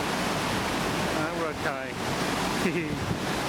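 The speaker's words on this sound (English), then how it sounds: "I think hopefully you'll pick up an impression of just how towering these waves are." Heavy ocean waves and surf roar steadily around a ship at sea on a voyage to Antarctica, a broad continuous wash of water and wind noise under which people speak briefly.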